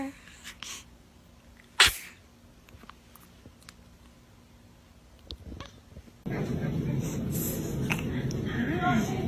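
A baby sneezes once, a sharp, loud burst near the start, with quiet breathing and small sounds around it, followed by a steady louder background rustle or noise.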